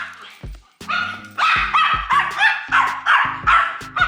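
A dog barks repeatedly at close range, loud and steady, with one sharp yip followed by a rapid run of similar barks and no talking over them.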